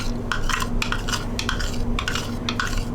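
A spoon scrapes and clinks against a bowl, stirring pudding dough with a cup of chopped walnuts, in quick uneven strokes close by.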